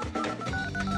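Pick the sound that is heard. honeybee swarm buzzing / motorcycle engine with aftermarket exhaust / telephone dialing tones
telephone dialing tones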